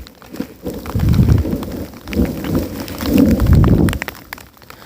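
Loud, rumbling monsoon storm sounds with heavy rain and deep thunder-like swells rising and falling, close and continuous, with no voices.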